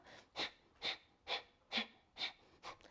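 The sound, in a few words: breath of fire rapid yoga breathing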